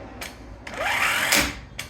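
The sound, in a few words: 12 V impact wrench tightening lug nuts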